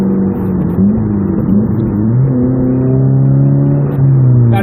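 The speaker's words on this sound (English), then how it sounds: "we are pretty much driving a straight pipe Mazda 3" Loud, steady drone of a straight-piped Mazda 3 with a 5-speed manual, heard from inside while cruising on a road drive, its deep exhaust tone shifting in pitch as the revs change, with no talking.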